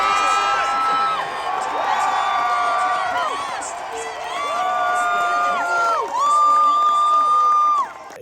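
A big crowd in the grandstands at a SailGP sail-racing event cheers and whoops with sustained high voices, loud and continuous, rising and falling in waves across the stands.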